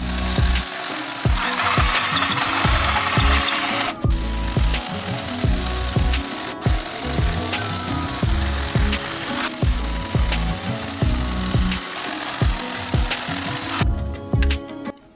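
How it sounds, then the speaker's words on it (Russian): A power drill bores holes into a concrete foundation for rebar, a loud, rapid rhythmic hammering that runs almost without pause, with two brief breaks and the tool winding down at the end. "Я просверлил 16 отверстий под 14 арматуру."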